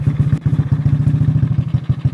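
A Ghanaian-made motorbike engine runs close by at a steady idle, with a loud, even, rapid thumping pulse and a faint clatter throughout.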